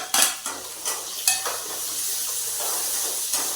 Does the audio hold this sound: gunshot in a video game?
no